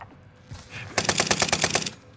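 Rapid automatic gunfire in Call of Duty: Warzone on Rebirth Island, a single burst of about ten evenly spaced shots, close and loud, following a brief quiet lead-in.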